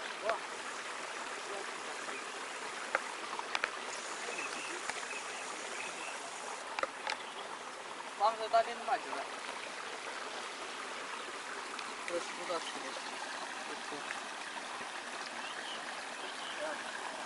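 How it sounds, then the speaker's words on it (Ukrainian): Water from a spring flows in a faint, steady trickle outdoors on a hiking and fishing trip. Occasional small clicks and knocks come through nearby. "Це джерело."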